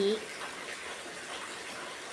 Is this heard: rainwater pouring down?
yes